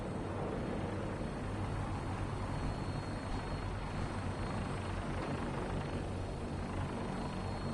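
A Fallout 4 gunship's engine and rotors drone in a steady, loud, unbroken roar with a constant low throb, no voices over it.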